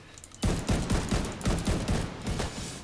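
Incendiary bullets fired in The Division 2: rapid, loud volleys of close gunfire, with sharp repeated shots in quick succession and no pauses.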